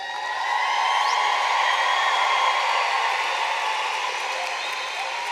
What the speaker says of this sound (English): Some of you brought cowbells and other noisemakers.